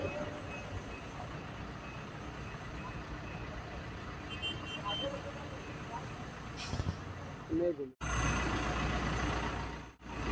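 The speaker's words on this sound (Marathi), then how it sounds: "कंटेनर पुढे घेऊन वळण घेतलेलं आहे" A heavy truck trailer maneuvers to load an accident-damaged container, with a loud, continuous engine rumble and faint beeping, then a sudden louder surge of engine noise near the end.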